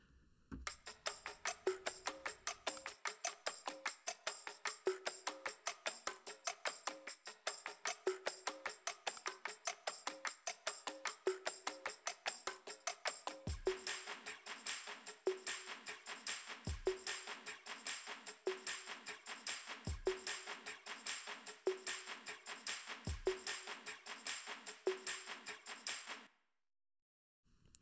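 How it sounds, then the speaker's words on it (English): A busy loop of jingling tambourine and sharp hand claps in a steady, bouncy rhythm, with occasional deep thumps joining halfway through, ending abruptly. "There's some tambourines in here. You got some church claps"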